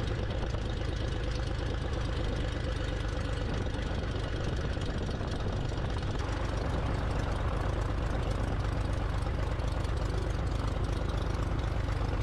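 A vintage 1940s Fokker aircraft's piston engine idles before taxiing, a steady, loud, low rumbling drone with a slightly uneven knock, continuous and close throughout with no talking.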